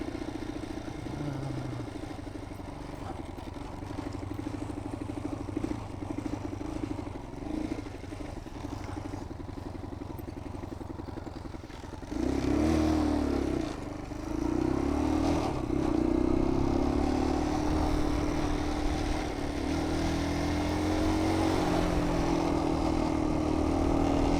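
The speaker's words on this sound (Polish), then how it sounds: "motocykl jest dość głośny. Na pewno to słychać." A Magnus Corda 200 (Lifan 200) motorcycle engine, started after several years unused, runs throughout, idling with a low rumble that grows louder and revs up partway, with some clatter nearby.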